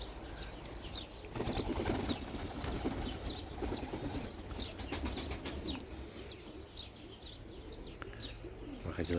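Pigeons bathing outdoors in the sun, wings flapping in bursts among soft coos and chirps, with a steady outdoor background and no talk.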